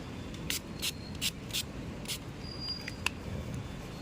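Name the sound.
spraying anti-fog and anti-rain spray liquid onto side mirror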